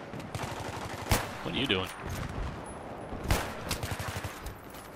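Gunfire in the video game Battlefield 3 on the Seine Crossing map: two sharp, loud shots stand out over a busy background of game noise, with a voice speaking briefly between them.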